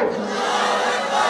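A crowd roars a loud, sustained massed shout of the takbir chant, many voices blending into one brief, dense cry.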